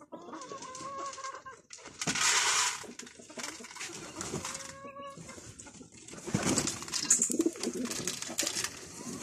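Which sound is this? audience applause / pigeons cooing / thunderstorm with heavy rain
pigeons cooing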